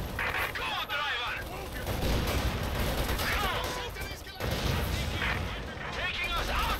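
Grenade blast amid a Company of Heroes 2 battle, a heavy boom landing within continuous rattling gunfire and artillery rumble, loud and dense with chaotic combat noise throughout.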